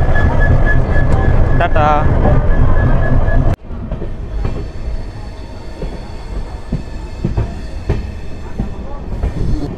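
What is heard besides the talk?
Padatik Express train departing New Jalpaiguri station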